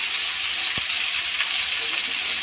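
Soybean chunks with salt and turmeric frying in a pan, a loud steady hiss of sizzling oil with one brief knock, close and continuous.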